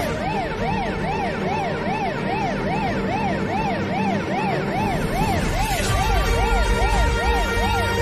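An ambulance siren wails steadily with a fast, regular up-and-down sweep. It stays loud and close throughout and sounds almost alone, with a rumble of traffic or engine noise rising near the end.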